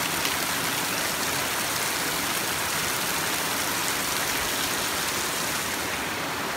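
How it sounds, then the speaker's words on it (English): Heavy pouring rain with water rushing beneath a house and down the road, a dense, constant roar of downpour and running water with no break, close and loud throughout. "it is flat pouring rain"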